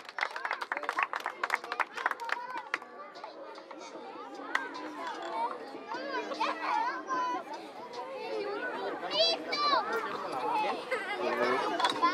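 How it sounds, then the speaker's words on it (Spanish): Scattered clapping for the winning Amstar team at a trophy ceremony after a final on outdoor sports courts in Unidad Morelos fills the first seconds, then fades into steady crowd chatter and children's voices close by. "Ese aplauso es para el equipo Amstar."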